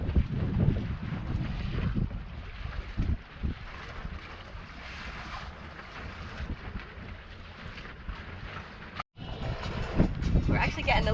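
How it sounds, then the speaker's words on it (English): Wind buffeting a sailboat under way at sea, a steady loud rushing roar with gusty swells and water wash beneath, one brief dropout near the end. "We're actually getting a little wind again now."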